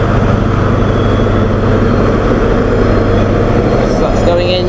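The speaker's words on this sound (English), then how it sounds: "That's the back of the coal train." A heavy coal train rumbles past close by at Doncaster, a loud, steady low roar of wheels and wagons that continues without a break.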